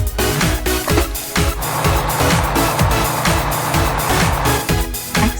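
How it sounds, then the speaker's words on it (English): A toy bulldozer plays a loud, busy electronic effect of rumbling motor noise with repeated sharp clanking accents in a quick rhythm, recorded close up with no voices. "Bulldozer."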